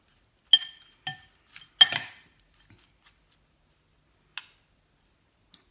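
Cucumber salad being tossed with dressing in a bowl gives a few sharp, bright clinks of utensil against the dish, spaced irregularly and followed by near silence.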